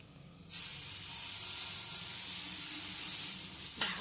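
Dosa batter poured onto a hot pan breaks into a loud, steady sizzling hiss that runs for about three seconds and then suddenly cuts off, with no talking.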